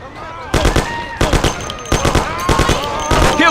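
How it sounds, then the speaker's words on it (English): Gunfire in Mafia: The City of Lost Heaven video game, loud rapid bursts of automatic shots in about five clusters with echoing tails, and voices shouting between volleys. "it's shooting here!"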